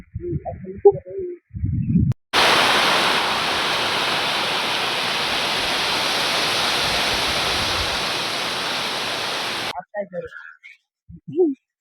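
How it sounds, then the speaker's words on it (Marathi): Heavy rain pours down in a dense, loud hiss that starts abruptly, lasts several seconds and cuts off just as suddenly, with brief voices and noises before and after. "पाहून घ्या पाऊस"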